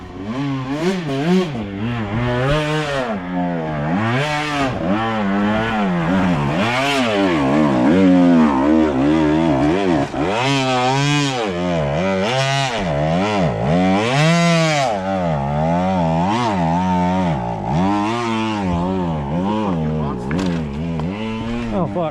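A KTM 125XC two-stroke dirt bike revs hard on a night trail ride, its engine rising and falling in rapid throttle bursts at close range, with riders' voices occasionally heard over it.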